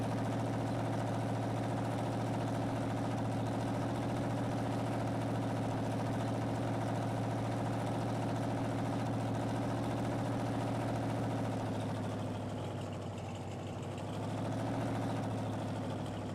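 A tractor engine in Farming Simulator 19 runs at full throttle as a steady, droning low rumble with a constant harmonic hum, dipping slightly in pitch near the end before recovering.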